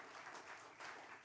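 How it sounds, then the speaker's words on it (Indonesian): Church congregation applauding during an Indonesian sermon, a broad steady wash of clapping that swells twice, at a moderate distance. "Tepuk tangan yang meriah bagi Tuhan Yesus."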